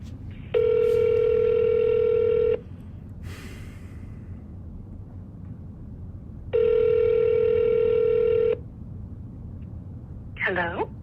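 A telephone line gives a steady electronic tone during a cold call, sounding twice for about two seconds each time with quiet gaps between. Close and clear, with faint breathing and a brief voice near the end.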